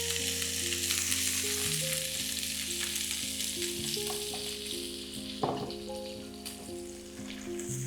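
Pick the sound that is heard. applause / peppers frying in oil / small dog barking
peppers frying in oil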